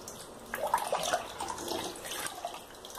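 A toilet flushing, a quiet gurgling rush of water that swells briefly and then trickles and splashes as it drains.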